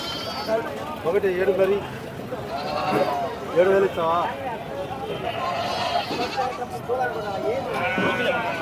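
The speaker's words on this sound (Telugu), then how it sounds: "ఇక్కడ మేకపోతులు రెండు బ్యాచ్లు ఉన్నాయి" Male goats bleat repeatedly amid a busy livestock market crowd in Gudur, with people talking nearby and overlapping calls from several animals.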